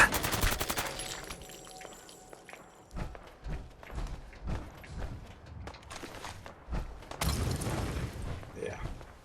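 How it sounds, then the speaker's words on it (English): Frag grenades blow up vehicles amid a Fallout 4 firefight, with dense bursts of gunfire and sharp blasts scattered across the stretch, loud and busy, with heavy explosive bursts near the start and end and a voice talking over parts. "blowing up a bunch of vehicles with grenades as we go"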